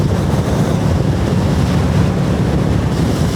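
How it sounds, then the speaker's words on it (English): Strong gust of wind buffeting the microphone while riding a Royal Enfield Meteor 350 motorcycle on a road, a loud continuous roar and rumble throughout with no speech. "Got caught by a massive gust of wind then."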